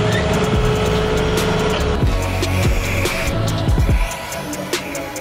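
Trucks pulling up near a backyard garden pond job site, a loud, steady engine rumble with shifting low tones that eases off toward the end, no talking.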